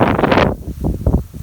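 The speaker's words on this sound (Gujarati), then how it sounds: "પવન છે ને બહુ ઘણો છે એટલે હરખું થોડું પવનનો અવાજ આવતો હોય" Strong wind sweeps across an open farm field and batters the microphone in loud, uneven gusts that surge, drop away briefly, then return in shorter bursts.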